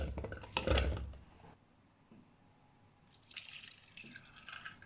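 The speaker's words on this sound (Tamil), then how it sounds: "இதில் கொஞ்சமாக தண்ணி ஊற்றிட்டு" Water pours into a metal pressure cooker holding tapioca with a splashing, trickling rush, stops briefly, then resumes with clinking of cookware nearby.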